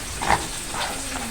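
Garlic, onion and chili frying in a pan, a short steady sizzle and hiss with a couple of spattering pops, close and fairly loud.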